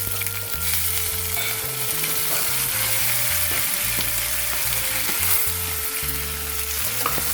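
Chopped onions dropped into hot oil with mustard seeds and cumin, a close, loud continuous sizzle crackling steadily, with stirring scrapes and occasional clicks of a utensil against the pan.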